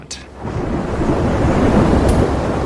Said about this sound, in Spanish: Parece que hay tormentas y patrones de convección.